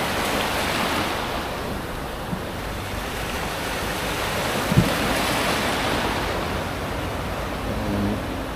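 Steady roar of ocean surf breaking along an island shoreline, continuous and fairly loud with wind noise over the microphone and a couple of faint knocks, no voices.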